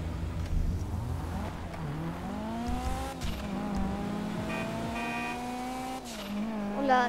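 A car engine in GTA V gameplay, apparently an armored car, revs with rising and falling pitch in a loud, continuous drone, joined by squealing tires near the end.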